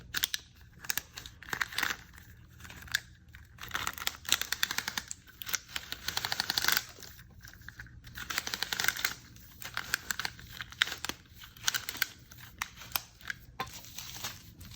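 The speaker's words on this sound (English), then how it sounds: "I'm going to use this cable zipper to insert all these cables into a sleeve so that it's neat and easy to run through the wall." A cable zipper feeds HDMI and optical cables into a cable sleeve, making bursts of quick close plastic clicks and ratcheting ticks separated by brief pauses.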